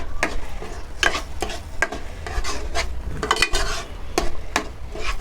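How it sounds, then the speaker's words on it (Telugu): A spoon stirs tomato chutney in a cooking pan with repeated scraping strokes against the metal, over a soft sizzle. The strokes come close and at an irregular pace, with no talking. "ఇలా కలుపుతూనే ఉండాలి, అలా ఆపేయకూడదండి."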